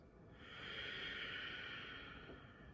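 A slow, airy breath is drawn in and released during a seated yoga groin stretch, a soft hiss that swells and fades over a few seconds, faint and close.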